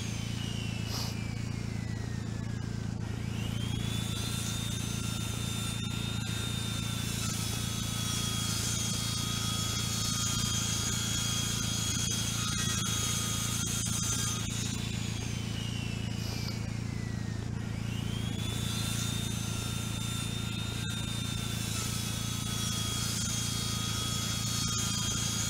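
In the farming game Ranch Simulator, a slow power saw cuts through wooden planks, its motor whining steadily in repeated passes, the pitch dipping and rising as each cut begins, over a constant low engine drone.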